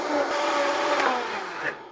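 A blender whirs through pineapple chili sauce in a steady, loud motorized whine that holds for nearly two seconds before slightly dropping in pitch near the end, close up.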